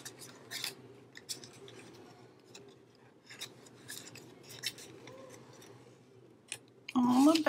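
A few crisp snips of scissors cutting thread on the back of a handmade junk journal button book, close and fairly quiet against faint room noise, with a louder voiced sound at the very end.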